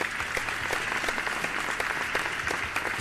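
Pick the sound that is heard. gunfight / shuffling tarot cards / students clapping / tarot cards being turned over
students clapping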